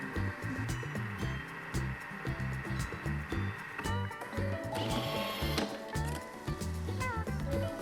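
A Thermomix runs at speed 1 with dry spices inside, giving a quiet, steady mechanical churning with a repeating rhythmic rattle throughout.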